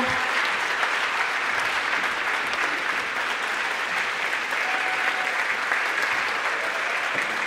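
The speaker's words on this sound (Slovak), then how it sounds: "Ešte raz veľký potlesk pre Idu Šandor a jej malých módnych návrhárov" Sustained audience applause at a children's fashion show, the dense clapping steady and loud throughout with a faint whistle-like tone partway through.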